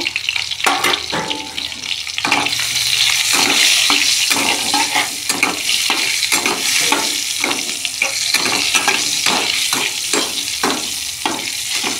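Pieces of pointed gourd fry in hot oil with a little salt and turmeric, giving a steady sizzle broken by repeated scraping and stirring clicks throughout.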